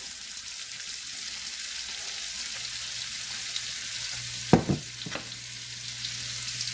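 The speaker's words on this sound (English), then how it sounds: "So, into that we're going to add our onions and celery." Onions and celery frying in rendered fat for chowder, a steady low sizzle with a couple of sharp spoon scrapes against the pot near the end.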